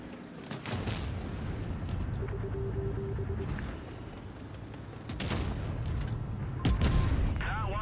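In a tank video game, a cannon shot bounces off the back plate of an E100: loud, sharp reports crack out at intervals over low engine drone and battle rumble.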